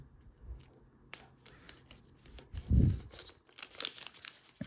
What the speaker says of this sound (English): Fold this to the center.